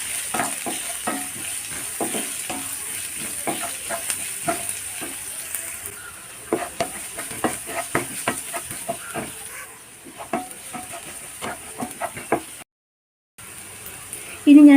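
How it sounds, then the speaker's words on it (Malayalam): Pumpkin and potato sautéing in a pan, with a steady frying sizzle and repeated stirring scrapes and taps that grow busier midway, followed by a brief drop to silence near the end. "നന്നായിട്ടൊന്ന് വഴറ്റി കൊടുക്കാം."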